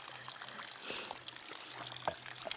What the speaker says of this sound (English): The spring that I fill up at, just a trickle of water.